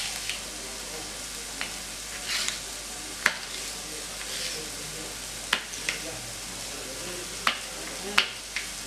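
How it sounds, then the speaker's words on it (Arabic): Onions frying in a pan sizzle steadily, with a constant crackling hiss broken by scattered clicks and scrapes of stirring; no talking over it. "كنخليو البصل حتى كيتشحر جيدا"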